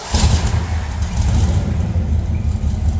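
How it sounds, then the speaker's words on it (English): An old carbureted car engine fires up and settles into a loud, steady close-range idle rumble with no talking over it. "You ever seen an old car start up on its own before from a phone?"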